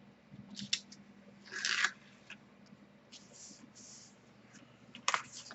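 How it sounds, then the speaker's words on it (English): Masking tape peeled off a paper craft piece in a quiet room: a burst of dry ripping around the middle, with soft handling rustles and a short sharp tearing snap near the end. "So I'm going to hold that down and remove the tape."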